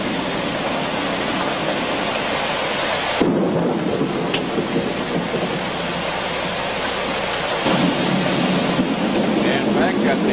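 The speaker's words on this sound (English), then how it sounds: "this whole area is still under rain and it's pretty well drenched" A thunderstorm with heavy, drenching rain roars in a loud, continuous wash, rumbling thunder swelling in waves over the downpour.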